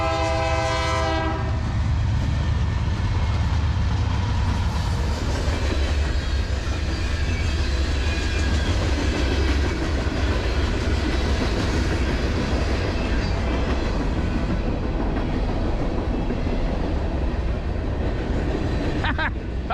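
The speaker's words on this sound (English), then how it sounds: "check it out, the train's coming by" A train horn blares at the start, then a long, loud rumble and rattling of rail cars rolling past nearby, near Yosemite National Park.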